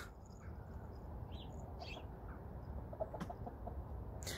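Hens clucking in a backyard chicken coop, soft and intermittent over a steady low background rumble, with no talking.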